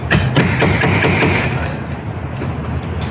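Rapid, repeated metallic hammer blows ring out close by during a rotted door frame repair, a steady rhythm of sharp strikes that slowly fade to lighter taps.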